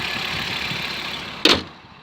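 A 26-year-old Audi 90 2.3 20V five-cylinder engine idles with a steady, smooth hum, cut by a brief sharp clunk near the end before the sound fades quieter.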